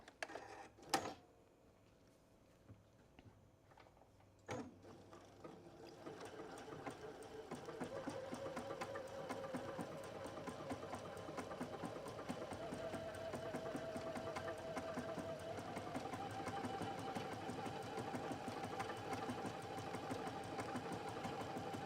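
A sewing machine runs a decorative stitch on cathedral window quilt block fabric for an envelope pillow, its steady mechanical whirring sustained for about seventeen seconds after a couple of sharp clicks and knocks at the start.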